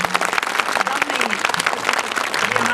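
Parents at a school event at a scholars' academy break into loud, dense applause on a count of three. The clapping is sustained throughout, with a few faint voices mixed in.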